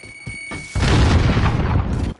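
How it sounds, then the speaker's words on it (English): A grenade explodes in Call of Duty: Warzone, one loud close boom that breaks into a long, dense rumbling blast after a few brief lead-in thumps. "Grenade out!"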